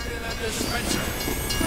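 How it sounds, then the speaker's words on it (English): A train rumbles past in the Team Fortress 2 video game, a brief, continuous loud rushing roar with rhythmic clatter, heard close and under excited voices. "That's a train!"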